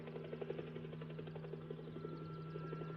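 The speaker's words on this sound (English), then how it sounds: "Helicopter." A helicopter approaches in a 1962 war film, its rotor making a steady rhythmic chopping that stays faint and distant.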